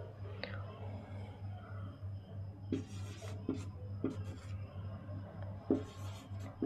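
A pen scratching out a sentence by hand during a Hindi-medium English lesson, soft close rubbing strokes with a few sharper taps, beneath a steady low hum, with a voice speaking quietly at times.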